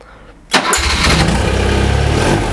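A 1975 BMW R90S motorcycle engine cranks briefly and then fires into a loud, close idle without choke, running on steadily right after the sudden start.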